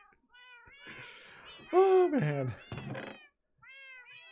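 Cats in a block-building video game meow several times in quick succession, close and clear, with one longer drawn-out meow in the middle; someone briefly speaks over them.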